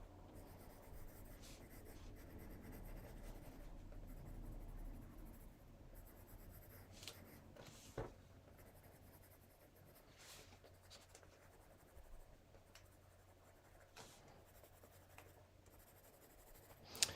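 A black colored pencil rubs and scratches across paper in long, steady strokes, a soft, continuous scratching that stays close and fairly faint throughout.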